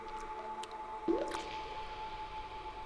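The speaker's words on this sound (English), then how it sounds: "The drops dripping from the ends are sulfuric acid, strong enough to burn skin." A single drop of sulfuric acid falls from a snotite in a cave and lands with a short, wet plink over quiet cave ambience.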